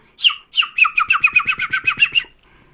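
A voice imitates the call of the kolea (Pacific golden plover), likened to a seagull: a close, loud series of about a dozen quick, rhythmic squawking whistles after two longer opening calls, heard alone.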